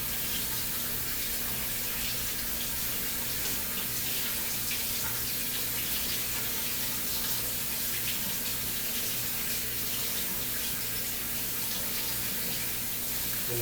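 Cool tap water runs steadily into a sink over a turkey being rinsed, a constant splashing hiss with a faint low hum underneath and no voices.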